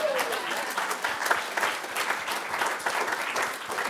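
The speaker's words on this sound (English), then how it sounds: "Come on now, that deserves a hand clap" A conference audience claps in a lively, uneven burst, individual hand claps distinct within the steady applause, sustained and fairly close.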